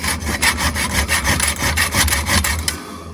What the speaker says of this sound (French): je vais vous montrer avec une scie à métaux.